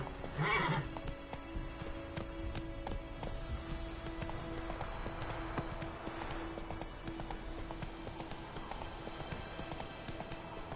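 Horse hooves clip-clop in The Witcher 3, a steady run of soft hoofbeats near and clear, with a whinny early on and quiet game ambience behind.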